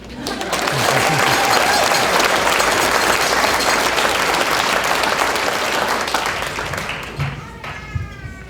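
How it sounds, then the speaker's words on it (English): Loud, sustained applause from a graduation crowd for an online high school's class of 2021, swelling quickly and holding steady for several seconds before tapering off near the end. "let's have one more round of applause"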